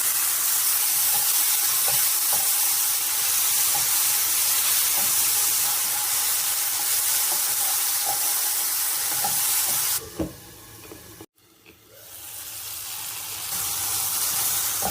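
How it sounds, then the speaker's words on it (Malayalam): Mushrooms frying with masala and tomato in a pan give off a loud, continuous sizzle that drops away briefly near the end before the hiss swells back. "മസാല ചേർത്ത മഷ്റൂം ചേർത്ത് ഫ്രൈ ചെയ്തെടുക്കാം"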